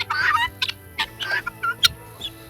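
A Rhode Island Red rooster clucking nearby in short, throaty bursts, several quick calls in an uneven rhythm, moderately loud.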